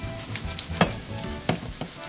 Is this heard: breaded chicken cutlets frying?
yes